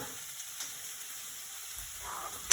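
Onions and potatoes fry in oil in a pan on turned-down heat for a Spanish omelette, giving a soft, steady sizzle and hiss close by with no one talking.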